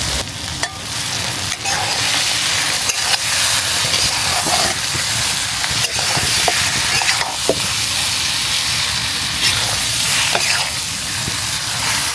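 Marinated chicken sizzles and fries in hot oil with whole bay leaves, dried chili, cloves and cinnamon, a loud, continuous crackling hiss with occasional stirring clatter, no voices.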